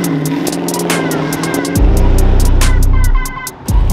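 A 2022 Dodge Charger Widebody Scat Pack cruises on a highway with a loud, close engine drone. Its pitch shifts and swells as the throttle changes, and no voices are heard.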